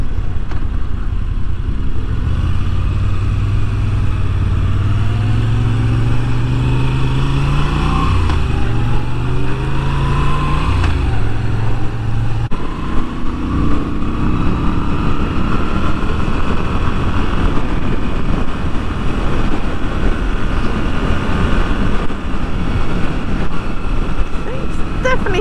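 A Moto Guzzi V7 Stone motorcycle being ridden, its engine note rising through the gears with a steady exhaust drone and wind rush, heard loud and close while a voice talks over it.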